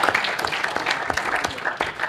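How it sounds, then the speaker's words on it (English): An audience applauds a speaker at a pharma technology conference panel, a dense spatter of clapping that holds steady for a couple of seconds. "let's get a big round of applause for Dr. Akbar."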